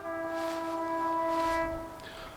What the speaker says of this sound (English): every now and again you do hear trains going past